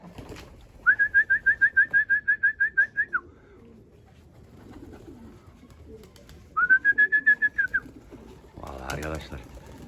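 Pigeons called out in two bursts of rapid, evenly spaced whistling coos, followed by a short rougher flutter near the end, fairly close and clear over a quiet outdoor background, with no talking.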